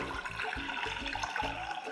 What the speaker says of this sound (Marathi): साधारण दीड कप पाणी घातलं